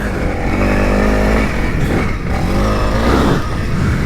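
Honda CRF300L motorcycle engine loud and close, dropping through downshifts with engine braking, its pitch stepping down and rising again in a steady droning run with no voices.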